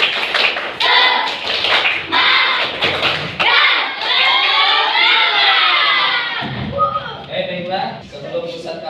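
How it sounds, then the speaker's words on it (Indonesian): A school class does rhythmic 'tepuk semangat' spirit clapping, with sharp patterned claps in quick bursts. Children shout and chant over the claps, and the voices carry on after the clapping stops. "Kita bersama-sama tepuk semangat lagi ya."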